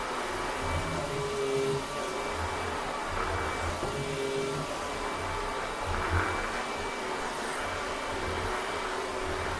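A vacuum cleaner on its max carpet setting sucks oats out of a carpet, a steady, loud, continuous motor-and-suction roar with faint rattles of debris and no talk.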